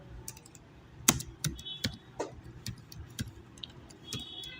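Keys on a computer keyboard click in short, irregular bursts, several crisp taps spaced across a few seconds, close and fairly soft in a quiet room.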